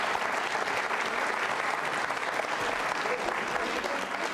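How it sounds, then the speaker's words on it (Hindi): An audience at a community quiz show claps steadily, a dense sustained burst of applause filling the hall without individual voices standing out. "तालियां बजाइए इस बात के लिए।"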